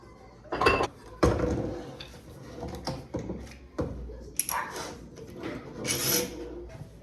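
A clamp is tightened against a wooden board that holds a kitchen sink up during installation, giving close, intermittent metallic clanks, rattles and scraping bursts.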